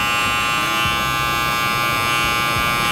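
An electric hair clipper buzzes steadily and loudly up close while cutting a taper, a constant high whine with no talking.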